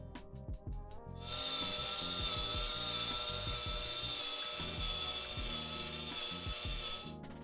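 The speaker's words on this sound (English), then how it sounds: "Start lapping with 200 RPM for the next 60 seconds." Valves being lapped on a BMW M62B46 V8 engine with a tool spinning at 200 RPM make a steady, close grinding rasp with a high whine and rhythmic scraping pulses, and no talking.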